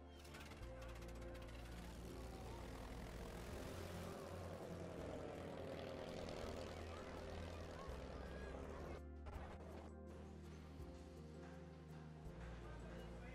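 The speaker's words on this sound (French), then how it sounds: "on cherche le bruitage de l'A380 au décollage" Airbus A380 jet airliner taking off, a sustained loud engine roar that swells and holds, then changes abruptly partway through, with no one speaking.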